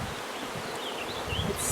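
A swarm of newly acquired honeybees buzzes close by in a dense, steady drone that holds at an even loudness throughout, with no voices.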